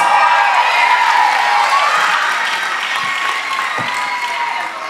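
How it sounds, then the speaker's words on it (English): Loud, sustained applause with cheering and high shouts from a crowd at a national dance competition, greeting the top 25 teen dancers, easing slightly toward the end. "Give them a nice round of applause."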